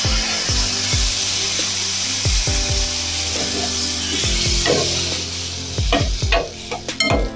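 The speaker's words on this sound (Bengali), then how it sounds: "এরপর এর মধ্যে দেখো দিয়ে দেবো জল" Roasted semolina in a hot pan for sweet bread rolls, with rhythmic scraping strokes of a spoon followed by sharp sizzling bursts as water hits the hot pan.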